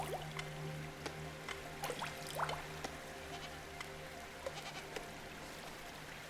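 Goats bleat in the video game Cairn, a few faint, scattered calls over a steady ambient bed of running water and low hum.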